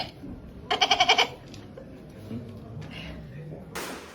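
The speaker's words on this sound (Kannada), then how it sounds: "ಒಂದು ಮೇಕೆ ನೋಡಿದ್ದೀನಿ" A goat gives one short, quavering bleat up close, then quieter indistinct background sounds follow.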